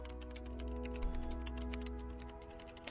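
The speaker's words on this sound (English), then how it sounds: "What are you typing now?" Steady rapid keystrokes on a computer keyboard, close and fairly quiet, clattering continuously over a low sustained musical hum from a game.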